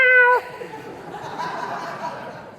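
A person's voice imitates a cat's meow in one short, tonal, rising cry at the very start, followed by quiet room murmur and faint chuckling.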